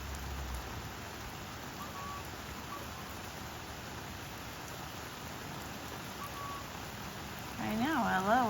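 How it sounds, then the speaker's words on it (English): Steady rain pours down across a summer garden as a continuous soft hiss, close and even throughout, with a voice briefly speaking near the end. "Look at the rain."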